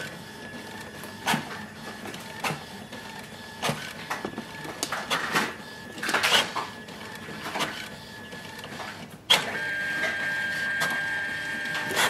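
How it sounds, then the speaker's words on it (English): A Brother MFC-J1205W inkjet printer runs a copy job with intermittent mechanical clunks and whirs from the carriage and paper feed, then a steady motor hum near the end, close and fairly loud. "press it once and it will start the copy process"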